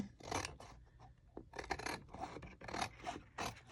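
Scissors cut through painted paper close up, making a run of quick rasping snips in short bursts with brief pauses between them.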